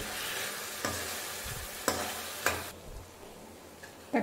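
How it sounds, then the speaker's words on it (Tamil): Mashed tomatoes and drumstick pieces sautéing in a pan for fish curry, with a soft steady sizzle and several sharp scrapes and clatters as the mixture is stirred, no voices. "அந்த தக்காளியோட பச்சை ஸ்மெல் போக வதக்கிக்கோங்க."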